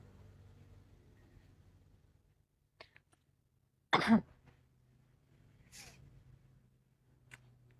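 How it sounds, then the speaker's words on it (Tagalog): A single sharp, harsh cough bursts out near the mic in a quiet room, followed by a few faint clicks and small noises. "inuubo pa rin ako"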